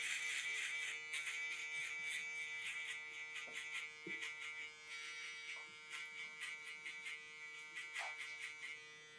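An electric shaver tapering hair buzzes steadily at close range, with small irregular rises in tone as the blade runs through the hair.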